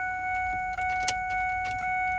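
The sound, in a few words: ignition key turned to on position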